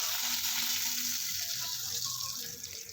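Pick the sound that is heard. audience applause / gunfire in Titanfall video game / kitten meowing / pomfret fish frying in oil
pomfret fish frying in oil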